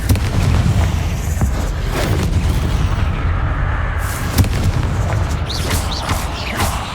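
Confringo fire spell explosions from the video game Hogwarts Legacy: loud, booming blasts with heavy low rumble and crackling bursts, sustained across the whole stretch without speech.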